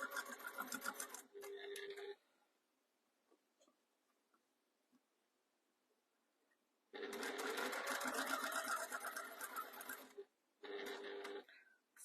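Sewing machine stitching a seam on a small jewellery pouch: a short run of stitches, a long quiet pause, then a longer run and a brief final burst, close and clear.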